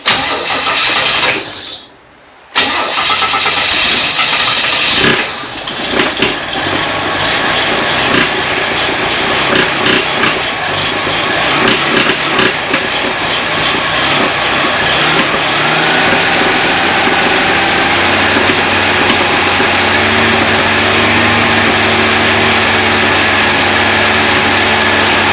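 A Chevy Nova that has trouble starting, heard loud and close as its engine cranks, roars and keeps running with a rough, steady drone after a brief drop near the start.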